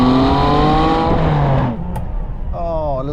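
A manual Ferrari 612 Scaglietti engine blips up on a downshift, the revs climbing then falling away before a second short rising rev, loud and close inside the cabin with a voice over part of it.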